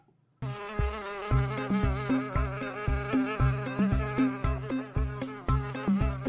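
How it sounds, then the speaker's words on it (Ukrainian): A housefly buzzes loudly and continuously, its drone wavering in regular pulses, close up and alone with no voices. "Це муха"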